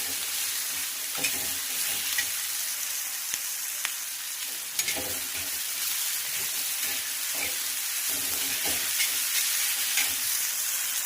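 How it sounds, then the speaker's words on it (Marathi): Onions and spices for street-style anda bhurji fry in a pan with a continuous close hiss, punctuated by repeated scraping stirs and light taps of a spatula. "तर आपलं सगळं साहित्य एकदम छान असं फ्राय झालेलं आहे"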